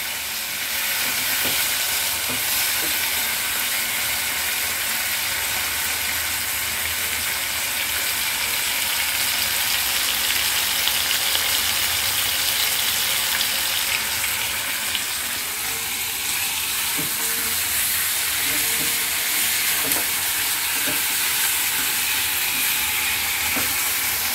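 Crab frying on a high flame gives a loud, continuous, close sizzle and hiss that holds steady throughout, with occasional stirring knocks and no talking.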